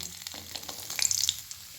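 Spice tempering with cinnamon crackling in hot oil in a pan, a soft close sizzle with a few brighter pops and light stirring scrapes, quiet and without talk.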